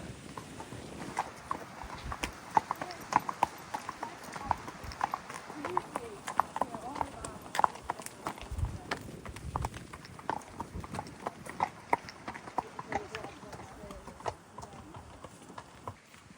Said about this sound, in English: We've got horses everywhere today.